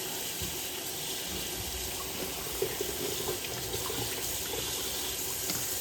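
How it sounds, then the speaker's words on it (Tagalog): Steady stream of tap water running into a bathroom sink while someone washes their face, a continuous close hiss and splash with small irregular splashes, no talking. "Maghugas tayo ng ating mukha."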